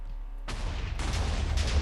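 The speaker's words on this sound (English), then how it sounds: "very big explosion on that one, but yeah, neat little trap" A TNT trap detonates in a Minecraft-style video game, setting off a sudden loud explosive boom followed by further blasts that keep the rumble going to the end.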